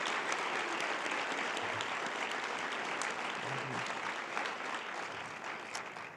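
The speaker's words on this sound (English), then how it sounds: "let's give our Highlands Ranch High School winners a huge round of applause" Luncheon audience applauding high school sports winners at a girls and women in sports event, sustained full-room clapping already underway, easing slightly near the end.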